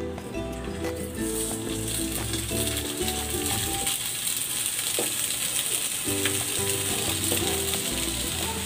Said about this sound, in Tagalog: Maglalagay ako ng cooking oil. Lulutuin ko na tong skinless longganisa.